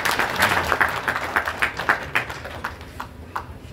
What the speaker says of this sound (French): je voudrais que nous l'ovationnions